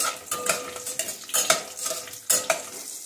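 Whole spices and broken chillies frying in ghee and oil, stirred with a utensil: steady sizzling broken by repeated scraping strokes against the pan, close and alone.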